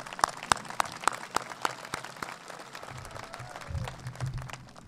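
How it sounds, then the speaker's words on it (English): Scattered hand claps and light applause rise from the audience at a high school graduation ceremony, a few sharp distinct claps at first before blending into a softer murmuring crowd. "Let's give this fine group a huge round of applause."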